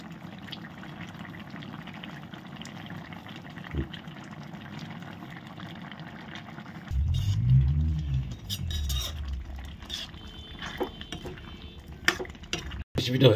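Soybean curry gravy boiling in a covered pot on a gas stove: a low bubbling simmer with light clinks of cutlery, then a louder burst of rolling bubbling midway, with occasional sharp utensil knocks and a voice speaking.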